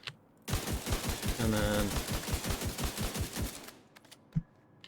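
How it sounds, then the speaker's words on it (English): Rifle in Division 2 firing in one rapid sustained burst of evenly spaced sharp shots lasting about three seconds, loud and close, followed by a lone click and a brief spoken aside. "That's as fast as it can fire without."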